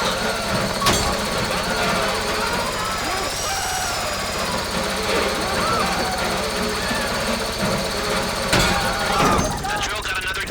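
A heist drill grinds steadily in GTA Online, a loud continuous mechanical whir with metallic chatter running throughout, with brief sharper bursts of noise near the end, set under talk.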